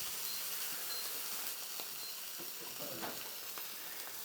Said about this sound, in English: while this steak is cooking